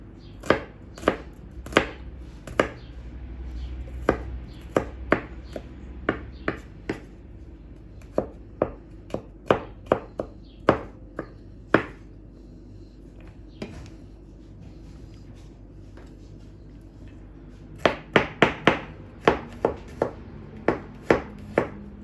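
A knife chops garlic finely on a board, giving crisp irregular taps, some in quick runs and some spaced out, loud and close against a quiet background.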